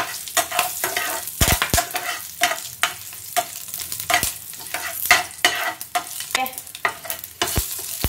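Dry red chillies, curry leaves and garlic spluttering in hot oil for a South Indian tempering, with steady sizzling broken by sharp crackles and pops and occasional stirring scrapes, close and fairly loud with no talking.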